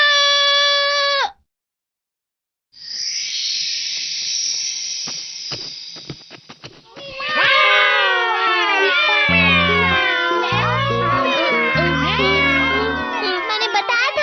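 Cartoon cats meowing in a Doraemon episode: a long, high, tonal meow, then a strained wail, followed by overlapping wavering meows with bright music underneath.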